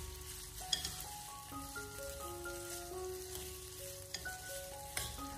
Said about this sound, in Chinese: 用小火给它翻炒一下， 将它不停的翻炒，大概是翻炒2分钟左右，把里面姜葱蒜的香味翻炒出来